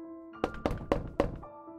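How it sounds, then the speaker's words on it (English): Four solid knocks on a door in a creepy horror setting, evenly spaced and close, over a low droning background tone. "Upon reaching 250, you will hear a knock on the door."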